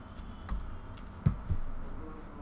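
A computer keyboard shortcut, Shift O, pressed during an Illustrator class: a few sparse, soft key clicks close by over a faint room background.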